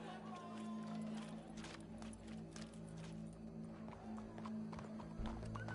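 A horse in the Western video game Red Dead Redemption 2 clip-clops steadily at close range, hooves rhythmic over a constant background hum, with a brief whinny and faint crowd murmur.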